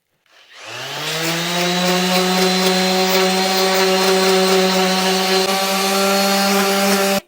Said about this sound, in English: soften the side, soften the edge, and sand our ends